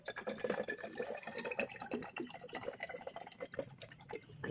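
Water poured into a container during a drinking prank, a continuous splashing, gurgling pour with small drips, close and fairly steady throughout without talk.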